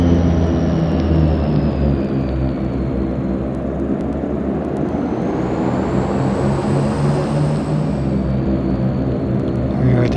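A simulated aircraft in the FSX game taxis to the terminal at Saba at night, with a loud, steady engine drone and low rumble that continue without a break for the whole stretch.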